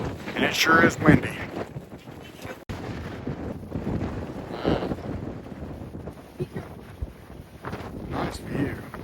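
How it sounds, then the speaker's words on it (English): Strong wind on a mountaintop overlooking a city buffets the microphone in rough, uneven gusts, loud rumbling bursts under people talking nearby. "and it sure is windy."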